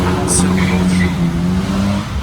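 A 605-horsepower naturally aspirated V8 sports car engine fires and settles into a steady, deep running note, close by and continuous, with someone talking over it.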